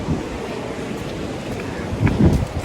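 Water at Weinia waterfall in Meghalaya pours beneath a rocky outcrop, producing a steady rushing roar with gusty, wind-like buffeting, close and fairly loud, swelling slightly toward the end.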